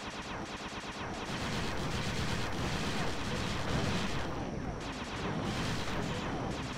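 Missiles and gunfire explode nonstop in the video game Sly 2: Band of Thieves, a dense, loud barrage of rapid blasts and booms that holds steady for the whole stretch.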